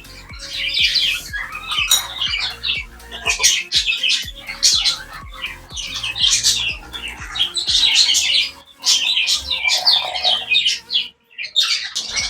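Several caged budgerigars squawk and chirp loudly and continuously at close range, harsh calls overlapping with barely a pause.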